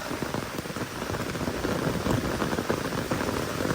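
Steady rain pouring down and pattering on surfaces in a forest near a dam, a dense continuous hiss close by with no voices.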